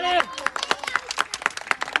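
Schoolchildren at a primary school sports competition in Muraripur village clapping in a brisk, even rhythm, several claps per second, after a brief voice at the start.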